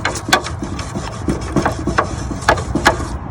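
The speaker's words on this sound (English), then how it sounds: "Just using an old toothbrush." An old toothbrush scrubs a plastic toy base during cleaning, giving close, rhythmic rasping strokes about three times a second, with no voices.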